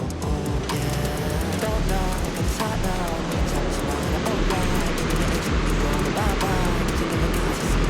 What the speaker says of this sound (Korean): 다시 봐도 이쁜 폭포